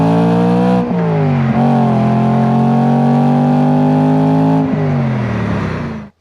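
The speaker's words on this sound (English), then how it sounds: "It breathes fire and is arguably the best sounding M3" A 2008 BMW M3 E92 with its high-revving S65 V8 roars loudly and steadily close by, climbing and dipping through several rev sweeps before cutting off abruptly at the end.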